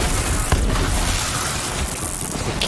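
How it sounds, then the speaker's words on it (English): A meteor strike explodes in Borderlands 3 during a Moze fire build, a loud sustained roaring blast with a sharp burst near the start, then rumbling noise that stays dense throughout. "There's the meteor."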